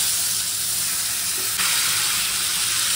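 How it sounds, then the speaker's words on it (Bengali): Potatoes coated in chili powder, turmeric and salt frying in hot oil give a steady, close, broadband sizzle that swells a little louder partway through, with no voices. "প্রথমেই আমি আলুগুলোকে ভেজে নেব"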